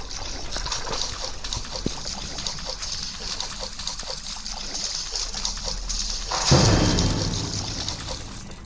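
Continuous gentle trickling and flowing water in the video game Granny, with a louder splash near the end; no talking.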